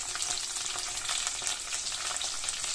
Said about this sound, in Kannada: ನಂತರ ಇದೆಲ್ಲವನ್ನು ಚೆನ್ನಾಗಿ ಎಣ್ಣೆಯಲ್ಲಿ ಫ್ರೈ ಮಾಡ್ಕೋಬೇಕು